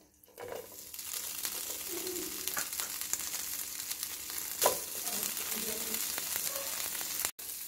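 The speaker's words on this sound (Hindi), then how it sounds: "पैन में हम बटर शामिल करेंगे। इसमें हम 4 टेबलस्पून बॉइल्ड चिकन डालेंगे।" Boiled chicken fries in butter in a pan, giving a steady, close sizzle across the whole stretch, broken by a few stirring scrapes and one brief sharp clatter near the end.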